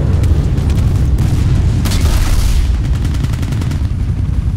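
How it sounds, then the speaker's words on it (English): Rockets blasting against a vehicle in the online shooter Battlefield Play4Free, a dense, continuous roar of heavy explosions and gunfire layered with loud booming impacts, with no pauses and no talking. "I just hit it with 2 and it's still standing"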